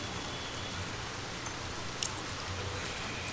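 Steady rain falling on surfaces, a dense even hiss of drops throughout with a faint low rumble and one brief brighter drip, no voices.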